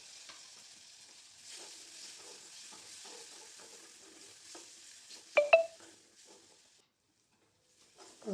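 Tomato stirred into a pan of vegetables frying for a Marathi pigeon-pea bhaji gives a faint sizzle with soft scraping stirs, a brief clatter near the end, then near silence.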